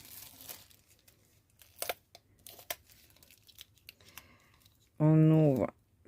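Packaging from a Temu haul parcel torn open with a few crinkling rips and soft handling noises, quiet and close, before a short loud tone interrupts near the end.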